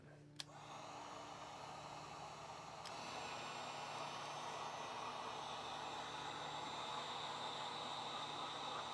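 A heat tool blows hot air over a vinyl model kit, a steady breathy whoosh that holds throughout after a brief click at the start, with no talking.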